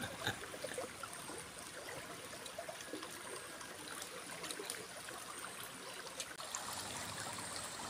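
A stream of water flows and trickles steadily, a soft continuous rushing with small splashes throughout, no voices.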